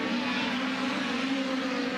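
Dirt-track race car coming up to speed at Eldora Speedway, a steady, continuous engine drone with a droning tonal hum, moderately loud and alone without talk.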